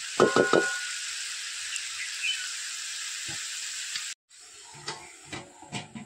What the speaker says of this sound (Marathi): ह्या कमी आगीवर भाजी शिजावी.